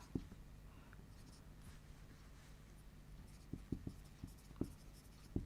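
Chalk or marker writing on a board during a soil science lesson, faint steady scratching with a few sharper taps of strokes and dots, quiet and close in a calm room.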